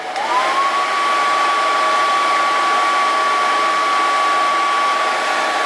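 A hair dryer powered from a Bluetti AC2A solar generator blows steadily and close, a constant fan whoosh with a thin high whine that rises at start-up and holds level throughout.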